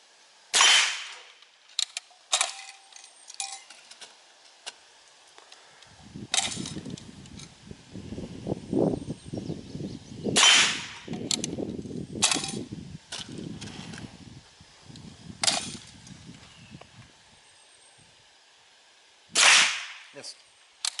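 A No.7 Long Branch .22 Lee Enfield rifle fires downrange, giving about seven sharp, isolated cracks spread over the stretch, with people talking low between the shots.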